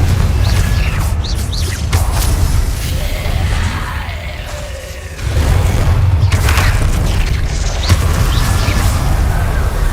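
A Confringo spell explodes in a Harry Potter video game: a loud booming blast hits about halfway through over constant rumbling game noise, with shouted voices scattered around it.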